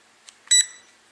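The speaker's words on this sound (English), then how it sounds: "The double beep and the lights stop flashing." A SIMREX X300C drone controller gives a quick double beep as it pairs, two short high electronic tones close by in an otherwise quiet room.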